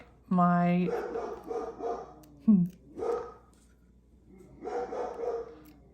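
A dog barks in a short burst of several sharp barks, with a yelp and more barking in the room, loud and close, mixed with bits of human voice during a craft project at home.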